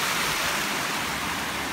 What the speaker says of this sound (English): there she is. That's Buttermilk Falls.